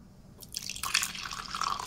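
A liquid pour from cereal in the video game The Upside Down 2: a trickling, splashing stream that swells after a quiet start and keeps running steadily to the end, with no talking.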